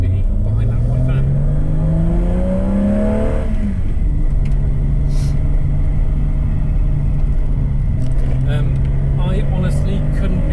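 A BMW E30 engine idles as it warms up, then revs with a rising whine before settling back to a loud steady hum, with someone talking over it.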